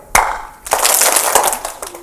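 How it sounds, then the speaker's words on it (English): Hands clapped together during a classroom talk for students, heard as one sharp clap followed by a dense burst of many hands clapping at once, with a room of students responding. "Sound of clap erupted."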